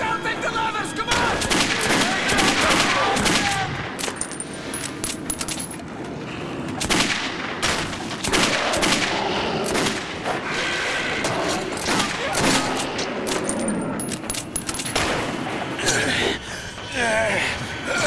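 Gunfire from the video game Metro 2033: dense bursts of rapid shots and heavy booms crowd the whole stretch, loud and close, while characters shout over the chaos.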